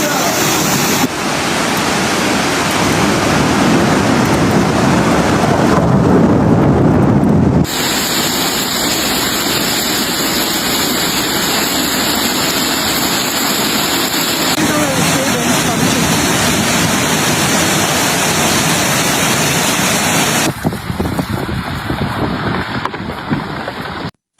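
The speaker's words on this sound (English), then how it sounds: "Adana was hit by heavy rain and hailstorms in the afternoon." A loud, dense roar of heavy rain and hail pounds continuously during a hailstorm in Adana, Türkiye, a harsh wash of noise with abrupt shifts in texture.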